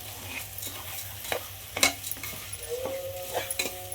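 Whole lentil curry seasoned with salt being stirred in a pan, with a spoon scraping and clinking against the metal over a soft sizzle, and a short squeaky scrape near the end.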